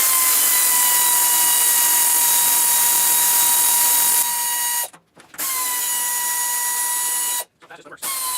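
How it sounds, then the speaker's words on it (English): Pneumatic air ratchet with a 10mm socket spinning out gearbox bolts on a sweeper, a loud steady high whine that stops briefly twice, with a voice talking over it. "I've got a air ratchet here with a 10mm wrench, or socket"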